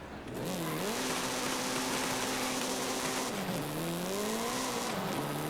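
A front-wheel-drive car launches from a standstill to 60 mph in Forza Horizon 5, its engine climbing loudly and steadily through the gears with brief dips at each shift, tires spinning hard, no talking.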